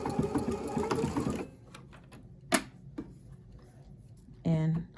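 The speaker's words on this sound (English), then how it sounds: "I lined it up with the edge of the fabric. And I'm going to pull a little as I stitch." Sewing machine stitching elastic onto fabric for homemade underwear, a short close burst of rapid stitching at the start, then soft handling clicks and a brief further whir.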